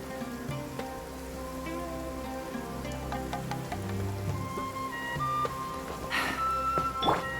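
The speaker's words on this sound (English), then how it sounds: "It's raining again?" Rain falling in the video game Mantichora, a steady soft patter of drops on surfaces with occasional clinks, layered over low tonal background music.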